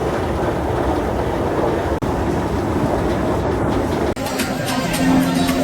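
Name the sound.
Kolkata metro train passing toward Dum Dum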